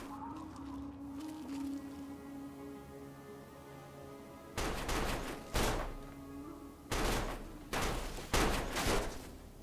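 Gunfire in the video game Fallout 3 erupts after a quiet, humming stretch: about five loud, sharp bangs in close succession, each with a brief ringing tail.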